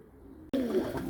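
Pigeons in a loft break a brief near-silence with sudden soft cooing that swells and continues, several birds layered close together.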